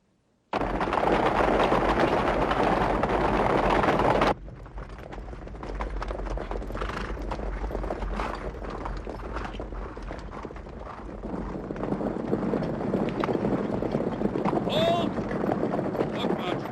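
Steady clip-clop of horses' hooves over a loud rumbling, windy background, continuing throughout with a brief burst of noise at the start, from a 1987 war film about mounted light horse troops.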